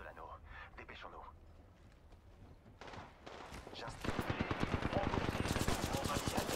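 Enemy gunfire in a shooter video game with a closing ring, squad play: dense, rapid automatic bursts build in from the middle and become loud and continuous toward the end, with voices talking underneath.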